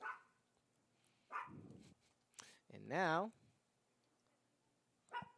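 Dog barks ring out at a men's soccer match, a few short yelps and one longer wavering bark, separated by gaps, with a commentator speaking briefly.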